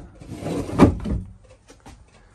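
A drawer slides and thumps shut, followed by a couple of lighter knocks, close by in a quiet room inside a 2022 Forest River Grey Wolf 26BRB travel trailer.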